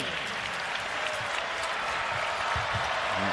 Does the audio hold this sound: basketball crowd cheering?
yes